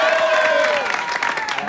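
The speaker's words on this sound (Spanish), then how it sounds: "Un aplauso para Carlos" A Venezuelan comedy show's studio audience claps in a dense, continuous burst of applause that stays loud and steady throughout, with a faint voice over it.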